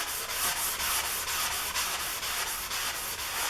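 Hand scrubbing on a table saw's metal surface makes a steady, loud back-and-forth rubbing hiss in regular strokes about twice a second, close up with no talking.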